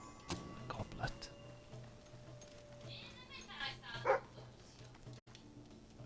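A dog in the video game Fable 3 gives a few short, faint barks and yips amid quiet game ambience and scattered sound effects, with no talking.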